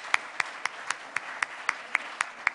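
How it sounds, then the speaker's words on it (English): A round of applause at a club gathering comes through as about ten crisp, evenly spaced claps in a steady rhythm, sharp and fairly close over a quiet background. "Give them a round of applause."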